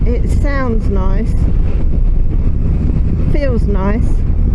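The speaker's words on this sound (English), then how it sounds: "So it's a CP3 Yamaha engine," A 2024 Yamaha XSR900 GP's CP3 three-cylinder engine rumbles steadily beneath wind buffeting while riding, with rising and falling tonal sweeps like revs, and a voice cutting in briefly.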